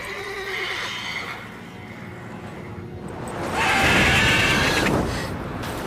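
A horse in The Witcher 3: Wild Hunt whinnies loudly and shrilly, with a second, stronger neigh swelling near the end over a background of game ambience and faint hoof movement.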